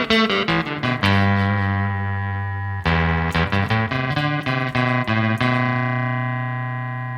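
Guitar notes through an EHX Ring Thing effect set to a sine wave, giving a robotic, bell-like ring-modulated tone in a rapid run of picked notes with sustained ringing pauses, no talking.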